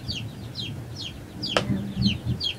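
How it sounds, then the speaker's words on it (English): Young chicks peep in a steady series of high, repeated chirps, close and fairly loud, with a low rustling murmur underneath and one sharp knock partway through. "You must be here for the big chicks, right?"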